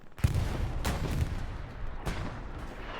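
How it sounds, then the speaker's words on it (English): Artillery shells crash in a Hell Let Loose match on Utah Beach, several heavy booming impacts spaced a second or so apart, loud and rumbling, with a continuous battlefield roar between them. "That might have been actually friendly artillery."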